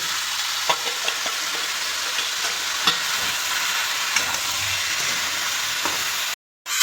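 Steamed cauliflower and potatoes sauté in a pan with salt, turmeric and cumin. The sizzle is loud and steady, with occasional spoon clinks and scrapes, and the sound cuts off briefly near the end. No one talks.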